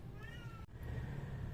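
A cat gives a short, faint meow over a low background rumble, followed by a soft click and continued noise.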